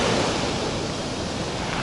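Sea waves wash onto a beach in Turkey in a steady, broad hiss of surf that stays even and close throughout, with no voices.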